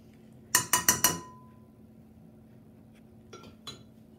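A utensil clinks against a bowl while vanilla is mixed into drumstick cake batter: four quick, bright taps close together, then two softer clinks after a pause.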